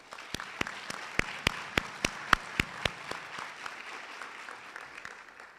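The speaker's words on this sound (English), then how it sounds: "And let's give a round of applause to them." Applause for recognized staff standing at a high school Veterans Day ceremony, sparse, distinct hand claps sounding in a rhythmic series over a soft crowd murmur, thinning out toward the end.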